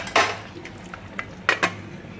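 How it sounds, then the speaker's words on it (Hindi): A metal lid is set onto a pressure cooker holding aloo kofta in yogurt gravy, giving a few short metallic clanks and knocks close by, with no talk. "और कुकर को ढक देंगे"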